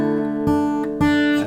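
An acoustic guitar plays a chord melody measure of a song using pick and fingers, with sustained ringing chords and two fresh strummed attacks, clear and close with no talking.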